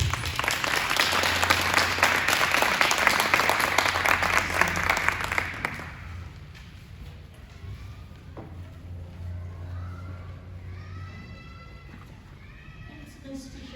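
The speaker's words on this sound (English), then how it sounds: "Please give them a hand of applause." An audience claps loudly and steadily for the first five seconds at a formal event. Then the applause thins into scattered, fading claps while voices murmur in the background.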